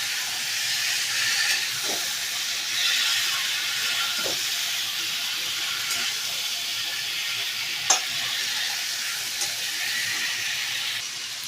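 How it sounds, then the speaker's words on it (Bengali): Boiled meat is sautéed in fried spice masala, giving a continuous steady sizzle and hiss with occasional scraping stirs and a sharp clink of a utensil against the pot. "আর এই মাংসটা সেদ্ধ করা দিয়ে দেবো কষানো মশলার মধ্যে, ভালো করে কষাবো"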